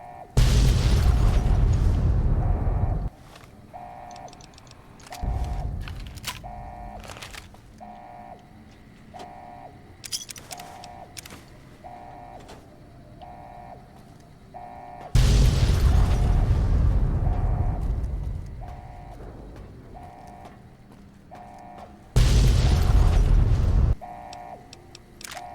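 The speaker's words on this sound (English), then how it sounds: "Quite the amount of explosions this place has." Loud booming explosions in Fallout: New Vegas, Lonesome Road, with several heavy low blasts, each rumbling for a few seconds, separated by quieter stretches carrying a repeating mechanical beeping and scattered pops.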